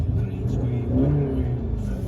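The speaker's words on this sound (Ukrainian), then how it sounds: "І вихлоп зовсім інший." A 2019 Skoda Octavia RS with a 2.0 TDI diesel and DSG gearbox revs through its exhaust, a steady low rumble that swells and rises in pitch near the middle before settling, close and loud with no talk.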